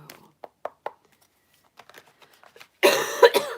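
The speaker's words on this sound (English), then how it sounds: "Apologize for the cough" A single harsh cough bursts out close by near the end, after a few soft clicks and rustles in an otherwise quiet room.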